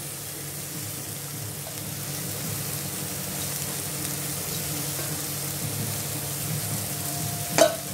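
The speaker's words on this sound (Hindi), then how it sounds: "अब हम इसमें ये कैबेज डाल देते हैं।" Cabbage and soya granules sabji cooking in a frying pan with spiced masala, a steady low sizzle with soft stirring scrapes and one sharp clink near the end.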